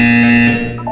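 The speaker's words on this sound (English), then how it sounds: "You will hear a buzzer." A loud electronic buzzer from the video game Portal 2 sounds as a steady, harsh tone lasting about half a second. It then fades into a softer ringing tail.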